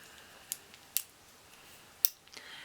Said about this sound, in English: these are very, very popular, these little folding in scissors